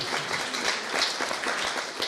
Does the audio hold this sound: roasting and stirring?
no